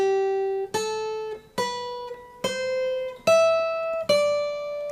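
Electric guitar playing an intro lick, a sequence of about six sustained picked notes each slid or bent upward in pitch, clean and close with no talking.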